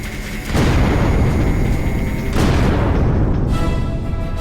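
Explosions in the video game Creeper World roar as dense, sustained booming blasts, loud and continuous, with a second surge partway through before easing off.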